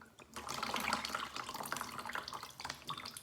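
Water poured and trickling into a container during a homemade cloud-and-rain experiment, a steady splashing, gurgling pour close by that runs the whole time with no talk over it.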